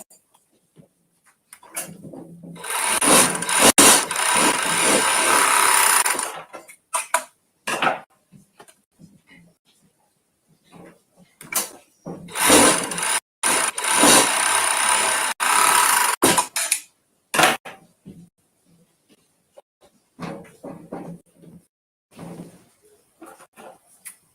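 A sewing machine stitches the side seams of a waistband in several loud mechanical bursts separated by short pauses and quieter handling noises.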